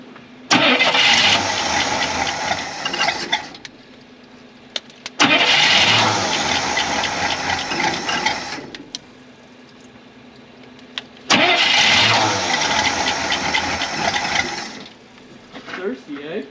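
A 1966 Cadillac Sedan Deville, sitting unused for over ten years, cranks and fires in three long bursts of loud engine noise, each cutting back to a quiet lull with faint clicks between attempts.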